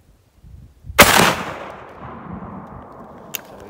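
A 12 gauge shotgun fires a 7/8 ounce Mr. Hollow Point slug outdoors, one very loud, sharp blast that rings out and decays, followed by a faint distant crack.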